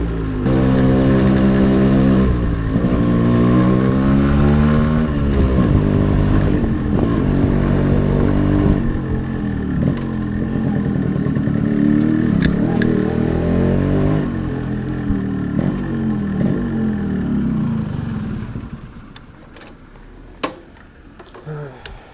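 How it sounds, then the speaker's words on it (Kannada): A carbureted 132cc Yamaha RX135 four-speed two-stroke motorcycle on the move, its engine droning loudly with rising and falling revs through gear changes, easing off toward the end, while a rider talks over it. "ಸೊ ಇದೆ ನೋಡ್ರಿ ಗಾಡಿ R X one thirty five four speed so actually ಇದು ಕಾರ್ಬೊರೇಟ್ರ್ ಇಂಜಿನ್ನು"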